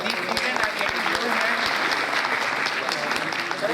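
An audience at a student talent hunt event claps continuously for students, a dense, even round of applause with a few sharper claps, while voices carry through it.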